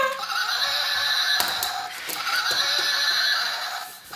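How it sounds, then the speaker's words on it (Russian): An electronic toy horse whinny from a light-triggered circuit in an electronic construction kit plays steadily with a bright, buzzy tone, pausing briefly midway before continuing, loud and close. "направляем свет и будет лошадь ржать"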